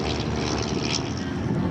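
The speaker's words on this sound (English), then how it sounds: "The production run of that aircraft going off to our left was a little over 300 as compared to the Piper Cub." A de Havilland Chipmunk propeller airplane flies past at the EAA AirVenture airshow in Oshkosh, Wisconsin, as a steady, loud engine drone with a throbbing low end that fills the whole moment.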